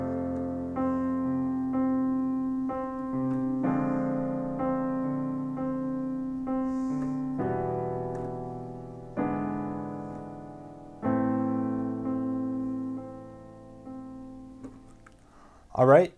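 Piano plays the pre-chorus chords of a song, sustained block chords changing every couple of seconds in a slow steady progression, clear and close, with a brief noise at the end.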